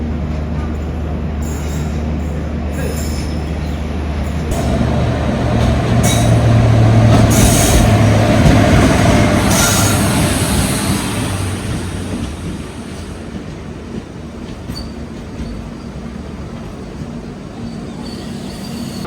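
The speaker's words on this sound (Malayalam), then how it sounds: "ചെങ്കോട്ടയിൽ നിന്ന് രാവിലെ മയിലാടുതുറയ്ക്ക് പോകുന്നൊരു എക്സ്പ്രസ് ട്രെയിൻ ഉണ്ട്" The Chengottai–Mayiladuthurai express train rolls past a crossing station in Tamil Nadu, a loud rumble of wheels and carriages that swells, squeals on the rails, then slowly fades as the coaches clear.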